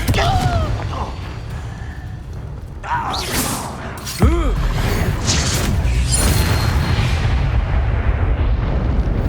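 A Confringo spell goes off in Hogwarts Legacy, landing as a loud, sudden booming blast that follows shimmering magical whooshes and leaves a dense rumbling roar. Game combat sounds keep going underneath.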